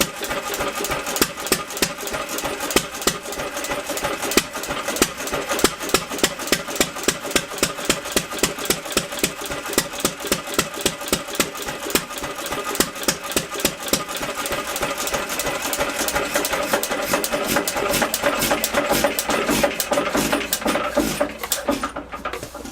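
An antique IHC Mogul 1 hp gas engine runs on its own, firing in a steady, fairly fast rhythm of sharp chuffs and clatter that continue evenly throughout, close by.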